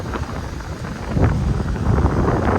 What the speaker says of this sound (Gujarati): હવે કઈ હવા આવે છે એટલે ઠંડી ઠંડી હવા